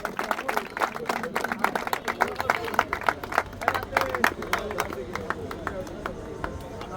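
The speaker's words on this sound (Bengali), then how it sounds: "সবাই একটা হাততালি দেন, সবাই হাততালি দেন।" An audience at a football academy's opening ceremony claps their hands in a lively, uneven burst of applause, with crowd chatter and a voice speaking over it.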